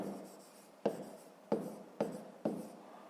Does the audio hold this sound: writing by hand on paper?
yes